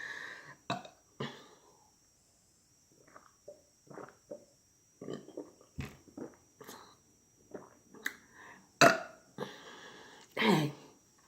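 A man burps repeatedly during a pork chop and vegetable mukbang, a series of short gulping belches and throat sounds scattered across the clip, some loud and close, with quiet pauses between.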